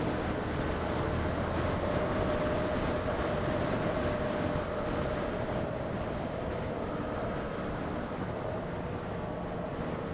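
A Yamaha FZ-07 motorcycle engine accelerating, heard as a loud, steady, close drone with heavy wind rush over it throughout and no voices.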